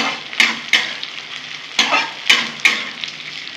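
Onions fry in a pan with a steady crackling sizzle, while a spatula scrapes and stirs in several sharp, close strokes.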